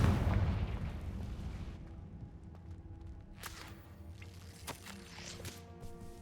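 A Confringo fire spell from Hogwarts Legacy bursts with a heavy, booming blast at the start that rolls away into a fading rumble, followed by scattered sharp crackles and pops.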